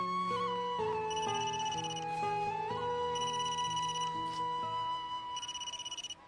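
A mobile phone rings with a repeating electronic ringtone melody, clear and fairly close, playing alone for several seconds.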